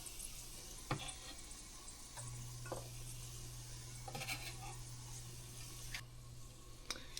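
Chopped garlic sizzles softly in a pan of coconut oil, with occasional utensil taps and clicks over a quiet steady fry.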